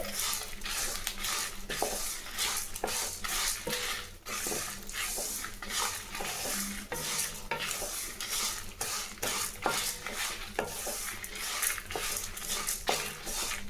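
Spices and curry leaves dry-roasting in a pan for kara kuzhambu powder, with a spatula stirring and scraping in a steady, rhythmic pattern throughout, close and continuous with no voices.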